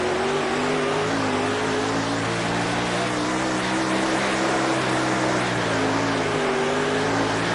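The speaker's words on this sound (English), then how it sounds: "See how I feather the throttle" A dirt-track race car engine in a racing video game holds a loud, continuous drone, with the pitch wavering slightly as the throttle is feathered and then reapplied.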